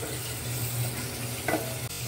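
Turnip curry being stirred in a pan on the stove, a steady soft sizzle with scraping spoon strokes, one brighter clatter near the end.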